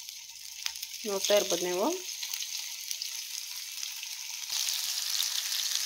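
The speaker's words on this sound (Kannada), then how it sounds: "ಇವಾಗ ಎಣ್ಣೆ ಕಾದಿದೆ. ನಾನು ಈಗ ಒಂದೊಂದು ಈ ರೀತಿ ಹಾಕ್ಕೊಳ್ತಾ ಇದ್ದೀನಿ." Chicken keema vade shallow-frying in hot oil on a tawa over low flame, a steady close sizzle and crackle running throughout, with a brief spoken voice near the start.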